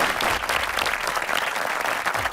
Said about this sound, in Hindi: आपके लिए जोरदार तालियां पहले एक बार मेरी तरफ से।